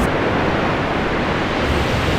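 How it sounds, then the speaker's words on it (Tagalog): Typhoon at signal number 5 roars in a steady, loud, unbroken wash of wind and heavy rain, a dense broadband rush with no talk over it. "Malakas ang hangin, malakas ang ulan, at wala na rin kuryente."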